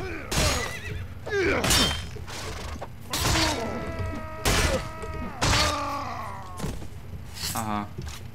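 Horse neighing in the Pendor video game, with several whinnies, including a shaky, trembling one, rising over a steady battle-noise bed. Each call is fairly loud and close.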